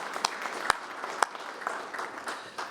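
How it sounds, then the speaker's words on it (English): A small audience at an evening program gives a brief, fairly quiet round of applause, with a few sharp near claps standing out over scattered clapping. "Will you please give them a round of applause for putting together tonight's program?"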